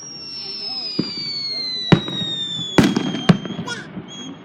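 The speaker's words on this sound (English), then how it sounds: "Bombs going off all around me." Fourth of July fireworks burst nearby in several sharp, loud bangs and crackles, with high whistling rockets sliding downward between the blasts.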